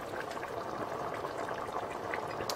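Tomato soup with ground meat bubbles and simmers in a pot, a steady, dense boiling hiss with small pops running throughout, fairly close and unbroken, with no voices.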